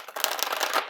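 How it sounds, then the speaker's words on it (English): Large oracle deck being shuffled by hand, a steady riffling and sliding of cards held close, with one sharper tap near the start and no talk over it. "So let's do a bit of a shuffle."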